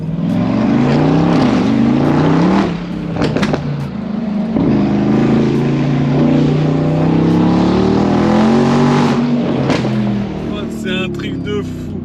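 A 920 hp Mercedes G-Class roars loud and close with a droning engine note that rises and falls, punctuated by sharp pops and bangs, with someone talking over it.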